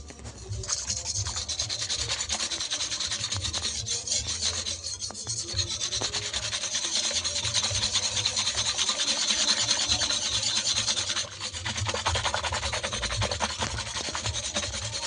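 Powdered milk and hot water are mixed together in a bowl, making a continuous, close churning and scraping sound that holds steady for the whole stretch without pause.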